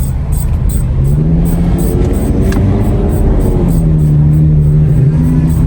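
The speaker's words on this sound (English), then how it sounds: "Kind of like a scraping sound that's oscillating." Worn brake pads on a Honda car scrape in a rhythmic, oscillating pattern over a loud, low road and engine rumble, with quick repeating pulses throughout and no clear speech.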